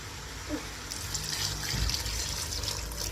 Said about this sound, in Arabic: دابا غادي نزيد الماء سخون باش نمرق كلشي